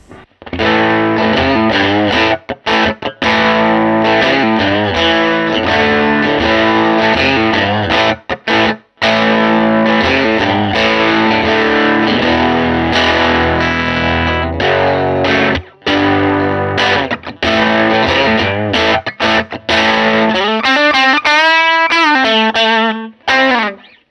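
A Fender Custom Shop electric guitar on its bridge pickup plays loud, continuous distorted chords and riffs through a Vyse Rebel amp, with a few short gaps and a bending lead phrase near the end.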